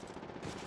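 Rapid automatic gunfire from the Apex Legends Mobile video game, a brief, faint burst of fast shots with no voices.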